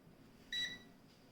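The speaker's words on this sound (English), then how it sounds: "it's got an extremely annoying beep, which I've checked in the manual online and on the paper manual that I cannot disable" A multimeter emits one short, high electronic beep, a clean tonal bleep lasting about a quarter second, fairly faint against a quiet room hiss.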